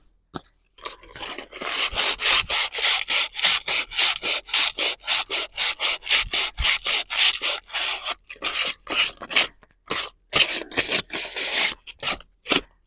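An AL-KO towball is scrubbed to clear rust, giving rapid, rhythmic abrasive rubbing strokes, loud and close, with short pauses between bursts and no talking.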